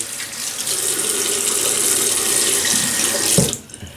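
Tap water runs steadily into a sink to wet a razor before a shave, a close, continuous splashing rush that stops abruptly near the end.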